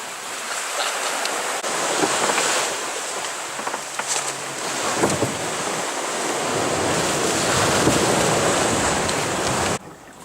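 Steady roar of sea waves and gusting wind at night on a sailboat at sea, filling the scene continuously, loud and close, with constant broadband rushing and no voices.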